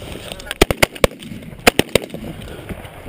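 Shotguns firing at birds during a late-season hunt in New York, a quick volley of about eight sharp, loud reports in two close bursts, with several hunters shooting almost together outdoors.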